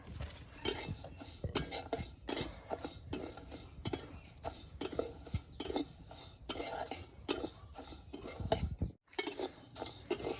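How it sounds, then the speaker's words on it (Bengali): Lentils being dry-fried in a pan over a village stove, stirred with a metal utensil in repeated scraping, rattling strokes over a faint sizzle, close and rhythmic, with a brief pause near the end. "এখন ডালগুলো ভেজে নেব হালকা"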